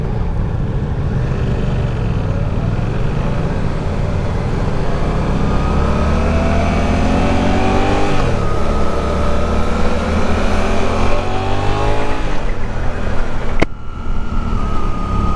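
A 2024 Suzuki GSX-8R parallel-twin motorcycle engine hums loudly and steadily while riding, its pitch sweeping upward through gear changes near the middle and again later, with constant wind and road rumble and no talking.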